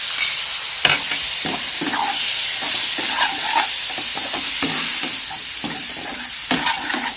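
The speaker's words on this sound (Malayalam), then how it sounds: "ഇത് നല്ല 2 മിനിറ്റിലൊന്ന് നല്ലപോലെ സോട്ട് ചെയ്യണം, എന്നാലും തക്കാളിയുടെ പച്ചപ്പൊക്കെ ഒന്ന് മാറത്തുള്ളൂ" Chopped tomatoes sautéing in a pan for Kottayam-style pepper chicken, a loud steady sizzle broken by repeated scraping stirs of a spoon against the pan.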